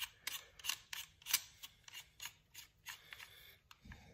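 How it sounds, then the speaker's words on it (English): Someone turns a castle nut on an AR9 pistol's buffer tube, giving a quiet series of irregular metallic clicks and ratcheting scrapes up close, with no talk. "Now I'm going to adjust the castle nut while keeping this thing straight."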